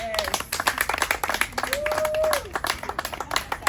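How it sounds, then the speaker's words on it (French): Audience applause at a gathering of an NGO in Africa, rhythmic, fairly close hand claps repeating steadily while a voice talks over them. "Est-ce qu'on peut applaudir un peu pour elles?"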